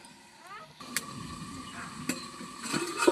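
Chicken and spices are stirred and fried in a pan, with faint sizzling under scattered utensil scrapes and clinks against the pot, quiet and close.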